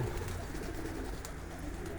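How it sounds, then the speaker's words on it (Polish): Soft cooing of pigeons or doves over a low, steady outdoor background, continuous and fairly faint throughout. "Ptaszki śpiewają"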